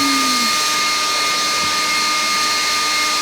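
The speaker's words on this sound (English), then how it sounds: "let's try the Dewalt box down the driveway." A DeWalt DCBL720P1 cordless leaf blower blows a box down a driveway with a loud, steady whooshing whine and a constant tonal hum, close and unbroken.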